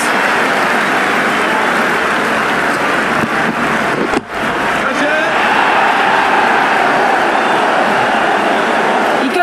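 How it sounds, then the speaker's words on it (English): Loud, dense stadium crowd roaring and cheering in the cricket video game Ashes T20 forms a continuous wash of noise with only a momentary dip partway through. "The crowd are loving this."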